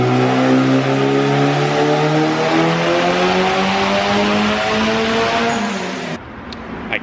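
A turbocharged Honda Civic with a D16Z6 engine on E85 revs hard on a dyno, its loud rising engine tone climbing steadily for about six seconds before cutting off sharply into a quieter idle.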